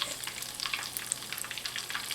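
Sausage-wrapped Scotch eggs frying in a pan, giving off a steady, fairly quiet sizzle with scattered crisp pops and crackles and no talking.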